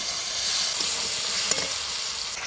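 Tomato, turmeric and salt frying in hot oil with cumin and bay leaf, a loud continuous close hiss and sizzle with a couple of faint stirring scrapes beneath it, no talking.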